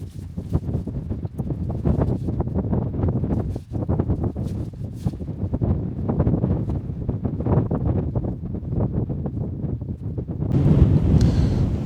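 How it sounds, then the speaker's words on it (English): Wind gusting across an exposed wild campsite in the UK during a first pitch of a Terra Nova Vault Duo tent, a steady loud rush with fabric rustle and buffeting that swells stronger near the end. "The wind is picking up now"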